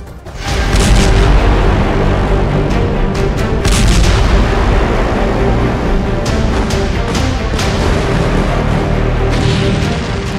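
A deep, rumbling blast in Beirut that swells in and stays heavy, with scattered sharp cracks and booms throughout, loud and sustained.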